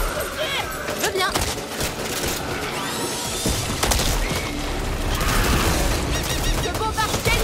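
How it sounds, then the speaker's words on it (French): Enemy bomber attack in the video game Back 4 Blood, with dense, continuous gunfire and crashing impacts churning through the whole stretch, loud and chaotic, with scattered explosive hits. "Le bombardier nous dégomme."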